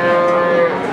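A young breeding bull at the Boyolali cattle market gives one loud, close, sustained moo lasting about a second.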